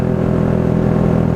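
A 125cc learner motorcycle engine runs at a steady, loud idle with an even low throb, heard alone without talk.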